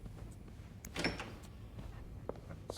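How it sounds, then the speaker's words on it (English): A door slides open in the horror game This Bed We Made, a faint mechanical whir with a soft thump, followed by a few light clicks over quiet room tone. "The door is opening."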